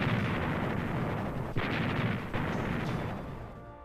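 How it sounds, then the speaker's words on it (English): Naval gunfire supporting troops in the Pacific during the Second World War, a continuous heavy rumble of distant artillery with a couple of sharper bursts standing out, no voices. "they called for the direct support of naval gunfire"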